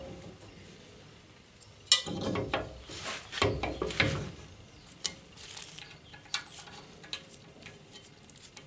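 Eight screws being tightened on the rear brake plate of a Citroën Traction 11B make a run of close mechanical ratchet clicks and scraping bursts, loudest in the middle, then a few scattered ticks.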